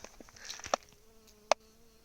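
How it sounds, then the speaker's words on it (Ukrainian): A bee flies among vegetable garden plants such as zucchini and beets, a faint buzzing hum with a few sharp close ticks and rustles, no talking. "Дивіться, гарна пчілка."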